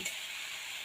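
Chopped mocha (banana flower) with salt and turmeric sizzles steadily in a hot pan while being stirred, a continuous close frying hiss with no talk.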